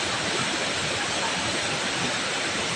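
Swollen, muddy floodwater rushes loudly and continuously down a rocky mountain stream after rain, a dense, steady roar close by with no talk over it.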